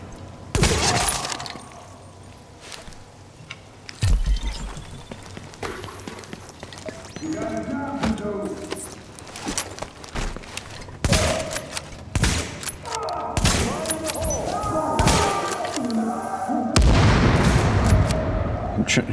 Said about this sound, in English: I'm trying to shoot his gas tank.